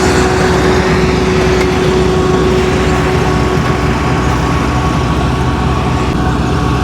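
A farm tractor engine runs loud and close in a rural Japanese village, a continuous steady drone with no pauses.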